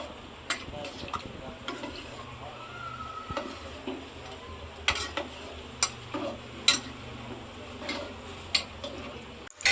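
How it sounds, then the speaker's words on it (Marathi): A spoon stirring khichdi rice with masala in a pot, with soft scraping and frequent sharp metallic clicks and taps over a low sizzle, irregular and fairly quiet. "चांगलं आता हे ढवळून घेऊया, म्हणजे मसाला सर्व आतमध्ये भाताला वगैरे लागेल."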